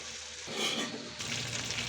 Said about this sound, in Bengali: এবার আমি মাছগুলোকে এভাবে ভেজে নেব